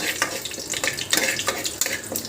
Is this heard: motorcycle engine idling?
no